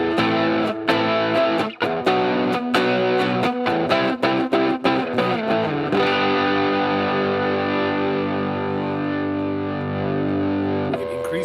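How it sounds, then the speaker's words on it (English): Electric guitar run through a vintage drive distortion effect in Logic, playing loud strummed chords with sharp attacks for about six seconds, then letting a sustained distorted chord ring out to the end. "maybe turn our vintage drive on."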